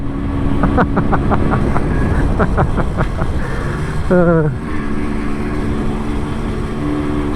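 A 10-horsepower MZ motorcycle with a German engine, riding downhill into a headwind: a steady, close engine drone with a brief rising pitch sweep midway, under wind noise and a voice speaking.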